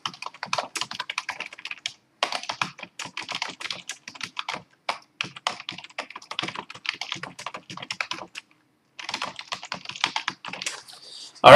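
Fast, steady keyboard typing while an essay is written, with bursts of keystrokes separated by short pauses and one longer gap, close and fairly loud, with no talking.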